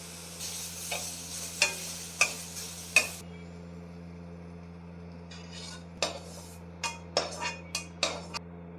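Bitter gourd and onion sautéing in oil in a home kitchen, with a steady low hum under repeated sharp clinks of a spoon stirring against the pan and a soft sizzle, no talking.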